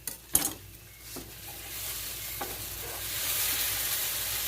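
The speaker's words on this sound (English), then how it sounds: "now I'm going to go ahead and finish stir frying this meat" Meat sizzles and stir-fries in a pan for Puerto Rican peasant's rice, with a few clinks of a utensil stirring at the start and a steady hiss that builds louder.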